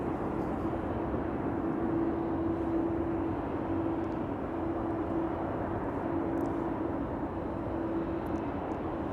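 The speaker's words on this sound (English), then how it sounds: "The Dreamliner is getting tugged across the runway." A Dreamliner airplane is tugged across the runway at Amsterdam Schiphol Airport, a steady, distant droning hum of engines and tug machinery with a faint tonal whine, continuous and unchanging without speech.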